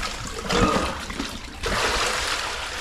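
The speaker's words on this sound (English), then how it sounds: "gonna go ahead and dump this water" Dirty water from soaking hunting bag and saddle gear pours and splashes out in two loud gushes, with a brief lull between them.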